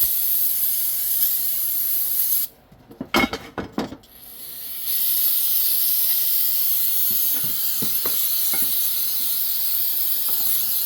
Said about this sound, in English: I need to start getting 55-gallon drums of brake cleaner.